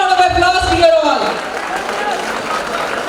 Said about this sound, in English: Humongous round of applause, dear all.